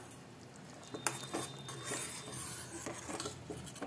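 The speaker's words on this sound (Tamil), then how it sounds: "சேர்த்துட்டு இதை நல்லா மிக்ஸ் பண்ணி விட்டுடலாம்." Ladle stirring through tomato kuzhambu in a metal pot after coriander leaves are added, giving soft scraping and light clinking strokes at close range with no talk.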